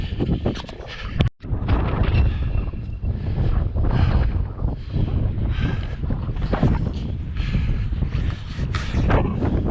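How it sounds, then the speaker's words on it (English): Strong wind buffets the microphone on an outdoor running track in a continuous loud roar with gusting rumble throughout, no voices. "Well, still super windy"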